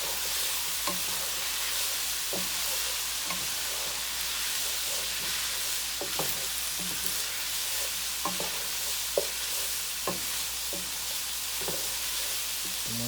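Lasagna filling with oregano and cilantro cooking in a pan, a steady sizzling hiss throughout with regular soft taps and scrapes from stirring, close and without speech.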